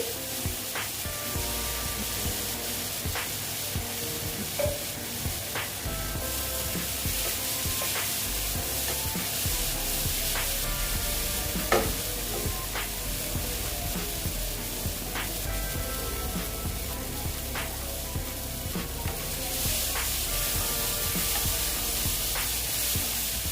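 Spice masala for a boal fish curry fries and sizzles in a pan, a dense steady hiss with occasional faint spatula taps and stirring scrapes throughout.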